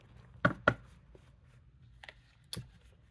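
Tarot cards are shuffled in a quiet room: two quick riffling snaps close together, then a soft pause and two more brief flicks, faint and close.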